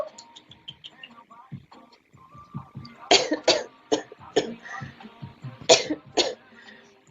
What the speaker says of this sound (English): Is it my coughing?